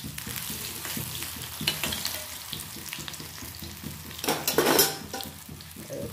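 Spinach leaves for muggu dal sizzle and crackle in a hot pan over low gas, a steady frying hiss with a brief louder burst of spattering midway as more leaves go in, with faint utensil clinks.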